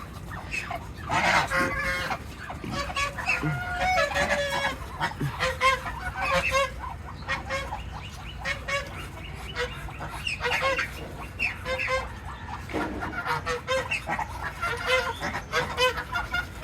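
Poultry squawk and honk loudly and continuously, many birds calling over one another at close range, with no talking.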